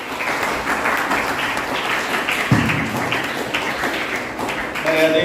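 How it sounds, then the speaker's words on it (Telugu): A church congregation applauds loudly, with dense, sustained clapping filling the room and a short burst of voice near the end. "గట్టిగా చప్పట్లు కొట్టాలి."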